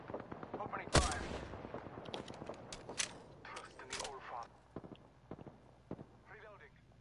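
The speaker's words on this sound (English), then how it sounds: "Darn, shots fired, and they're hitting me. Opening fire." Gunfire rattles in an Apex Legends match: a sharp loud shot, then scattered quicker bursts and pops that fade toward the end, with voices talking over the fight.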